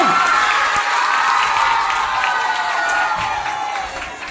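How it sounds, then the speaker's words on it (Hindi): An audience at a school quiz competition for classes 6 to 8 claps and cheers, a loud sustained burst of applause mixed with children's shouts that tapers slightly at the end. "जोरदार तालियां हो"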